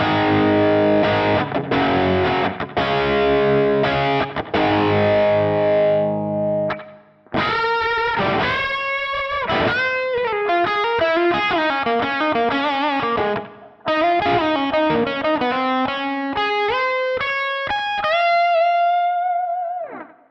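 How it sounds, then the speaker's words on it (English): Electric guitar lead with a distorted tone, mids boosted and highs cut by an EQ pedal, playing a solo of fast phrases and bends with chorus-like shimmer, loud and alone, ending on a held note. "boost the mids, and cut the high frequencies when I'm going for a solo to get a nice bold lead"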